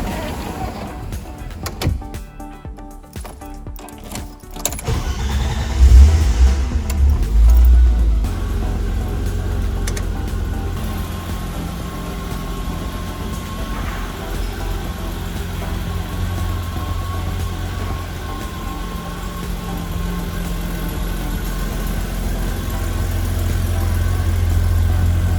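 A BMW Z1 with the M20 engine cranks after a few seconds of mechanical clatter and then settles into a steady idle that grows slightly louder, heard close with no talk over it.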